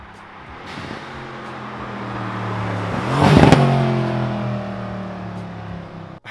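A Mercedes C63s AMG fitted with Weistec blow off valves accelerates hard, its engine note rising steadily to a loud peak before easing off, heard alone without talk.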